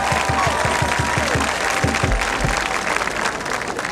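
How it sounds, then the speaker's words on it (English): A graduation audience applauds at a spring commencement ceremony, with sustained, dense clapping that stays loud and steady throughout, and a faint rhythmic low thumping beneath it. "I'd like you to give them a round of applause"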